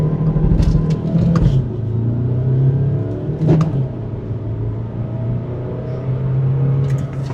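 A cheap car accelerates hard from a standstill on a 0 to 100 run at the Nürburgring, its engine roaring loud and close with gear changes and rising whir.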